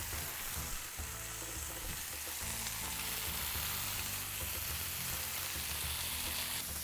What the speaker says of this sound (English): we're just going to place our mushrooms back into the pan just to warm them up for about another minute or so